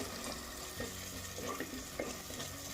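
Masala paste frying in a pan while being stirred, a low steady sizzle broken by soft scraping and stirring knocks, close and moderate in level, no talk.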